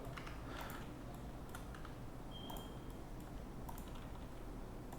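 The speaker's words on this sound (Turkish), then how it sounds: "Aynı şekilde buradaki vertexleri seçip de klavyeden F'ye basıyorum." Several sharp clicks of keys being pressed on a computer keyboard, including the F key, while modelling in Blender 3.1, spaced irregularly and faint against a steady background hiss.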